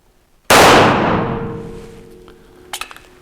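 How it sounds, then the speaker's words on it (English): A single loud pistol shot from a Grand Power Mk23 X Calibur cracks sharply close by and decays with a ringing echo, followed by a few light metallic clinks. "Still pretty flat shooting gun."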